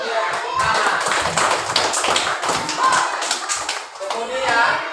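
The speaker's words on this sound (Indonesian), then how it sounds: "Berikan dia tepuk tangan." A class of young schoolchildren in an Indonesian classroom claps together in a brisk burst of applause, with quick uneven hand claps and some light voices mixed in.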